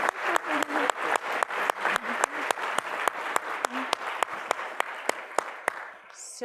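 A plenary conference audience gives a steady round of applause, with one close clapper beating a sharp, evenly spaced rhythm over the dense patter. It fades out near the end.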